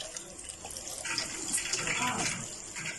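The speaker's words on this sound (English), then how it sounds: "When you step on the pedal, water will come out." Water runs from a foot-pedal operated tap into a sink, a steady hissing flow that swells slightly midway and stays fairly close, with a voice faintly underneath.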